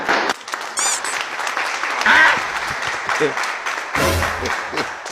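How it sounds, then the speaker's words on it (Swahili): A high-school class bursts into dense clapping for a student, loud bursts of applause rising and falling around brief spoken words. "Mpigeni makofi tena"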